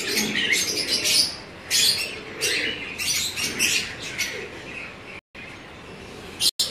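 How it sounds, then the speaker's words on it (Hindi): Sher Baloch pigeons from Ambala in a Karachi rooftop loft give bursts of high chirping and fluttering calls, repeated in short clusters with brief gaps, fairly close and alone without talk. "ये मेरा शेर बलोच कबूतर है"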